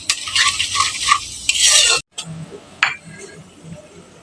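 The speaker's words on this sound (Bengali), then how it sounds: "তারপর দিলাম হচ্ছে গোটা জিরে।" Whole cumin seeds drop into hot oil with bay leaves in a pan that already held fried potatoes, a loud bright crackle and sizzle that cuts off suddenly, then softer frying and a spoon clinking.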